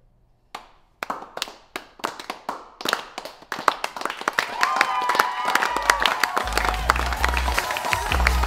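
Scattered audience claps at a comedy show start sparse and uneven, then build into denser clapping joined by music and a low rumble toward the end.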